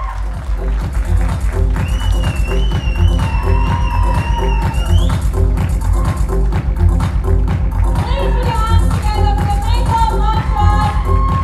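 Applause and cheering from an audience at a makeup product launch event, a steady loud crowd roar with clapping, mixed with background stage music and whistling tones throughout.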